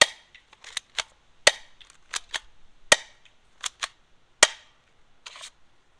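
A Hikewintoy gel blaster toy gun fires a series of sharp snapping shots, some single and some in quick pairs, irregularly spaced and close, with no talking.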